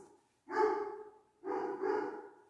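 A dog gives two drawn-out, moderately loud barks or bark-whines indoors, each lasting about a second with a short pause between, and no talk over them.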